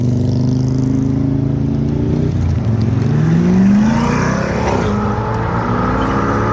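A C8 Corvette with a modified exhaust muffler revs loud and close, its deep engine note rising and falling steadily for several seconds with no talking.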